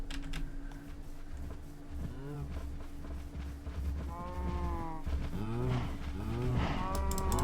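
Cows mooing in a mining and building video game, several drawn-out moos overlapping in the second half over a steady background hum and keyboard tapping.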